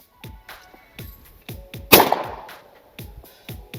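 A single loud shotgun blast at a clay target shooting range cracks sharply and rings out in a decaying tail, surrounded by a regular series of softer thuds before and after.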